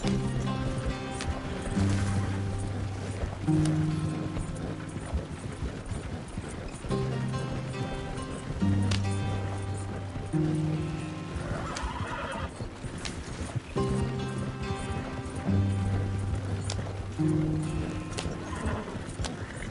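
Steady hoofbeats of galloping horses in a PS4 video game pound on without pause, with a looping musical backdrop and occasional whinnies, loud and close throughout.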